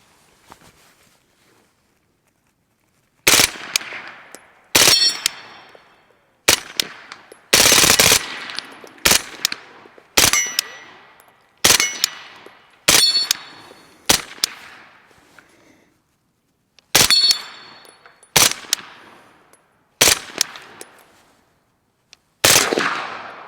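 Bursts of rapid gunfire through an Anechoic AnechoX 35 suppressor crack in short volleys separated by pauses, each burst sharp and loud, with a brief ringing tail.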